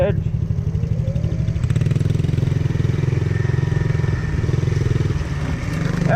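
A motorcycle rides across a rutted, overgrown abandoned motocross track, its engine droning loud and steady throughout with a rapid chugging pulse, close by.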